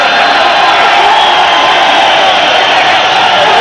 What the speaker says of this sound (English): The crowd will be on their feet as they'll welcome them both out.